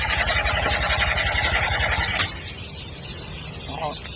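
A two-day-old SYM New Duke scooter engine idles with a rough, abnormal knocking pulse for about two seconds, then abruptly cuts out as it stalls, leaving only faint background noise.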